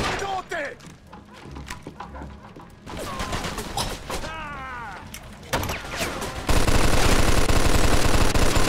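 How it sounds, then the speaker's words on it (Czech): Machine gun fire in the Mafia II video game: sustained rapid bursts roar loud and close in the final seconds, after shouting voices and scattered shots and thuds. "Tak makej, sedni za ten kulomet!"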